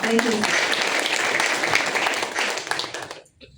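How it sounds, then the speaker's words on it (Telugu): Sustained audience clapping, fairly loud and dense, fills the clip at a Bible quiz gathering led by a pastor, then cuts off abruptly near the end. "ఇప్పుడు మీరు చప్పట్లు కొట్టండి"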